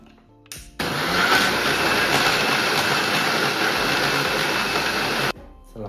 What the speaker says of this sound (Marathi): आता परत मिक्सरवर ठेवू याला